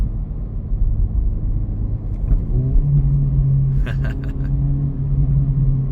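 Acura Integra Type S in Sport Plus mode, engine droning low and steady inside the cabin, with a brief cluster of crackling exhaust pops and burbles midway, no talk over it.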